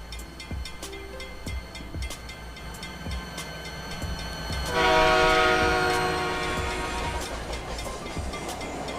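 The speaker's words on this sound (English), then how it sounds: "this locomotive is based on a Burlington Northern SD40-2 built in 1960 or 70s" A Roblox Rails Unlimited locomotive modeled on a Burlington Northern SD40-2 diesel rumbles steadily with faint rhythmic rail clicks, then a loud horn sounds for a few seconds before fading back to the running drone.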